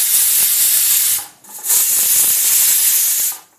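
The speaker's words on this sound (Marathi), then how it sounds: "आता कुकरच्या 3 शिट्ट्या झालेल्या आहेत" Steam blasts loudly from a pressure cooker whistle while pav bhaji vegetables cook, two long hissing bursts close by separated by a brief pause.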